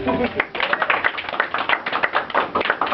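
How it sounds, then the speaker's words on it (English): A room full of bloggers at a club gathering applauds Rick Santorum, steady clapping throughout with some voices mixed in. "round of applause for Rick Santorum"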